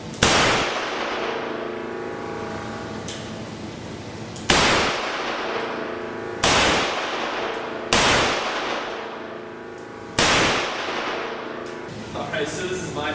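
An 1895 Nagant revolver firing PBU ammunition gives five sharp, loud shots spaced a second or two apart, each with a ringing decay, and a faint clatter follows the last.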